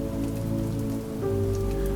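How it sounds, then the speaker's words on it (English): Rain patters steadily against a window with a soft, continuous hiss, even and unbroken throughout, with a low tonal drone running beneath it. "Outside, the rain slows to a steady whisper, inviting the day toward rest."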